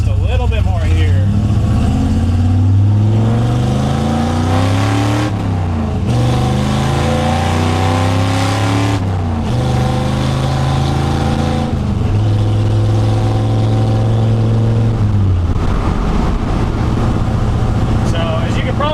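A Ford F100 pickup with a Tremec 5-speed manual accelerating through the gears, engine droning and rising in pitch, dropping at each shift and climbing again, loud and close from inside the closed cab.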